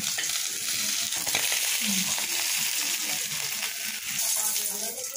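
Rui fish frying in hot oil, a steady, close and loud crackling sizzle with a fine spitting hiss that stays constant throughout, with a few soft clinks of a utensil as the pieces are lifted.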